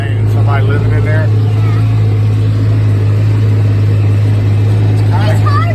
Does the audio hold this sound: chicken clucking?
no